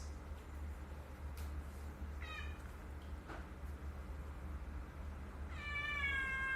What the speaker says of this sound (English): She wants her dinner later on.